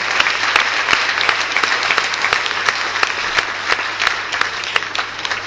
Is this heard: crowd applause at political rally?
yes